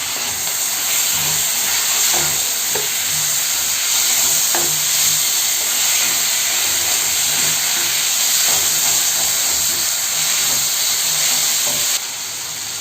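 Cut tomato sizzles loudly with ginger-garlic paste in a hot pan, a dense, steady hiss with occasional stirring taps and scrapes, close up and continuous, with no voices.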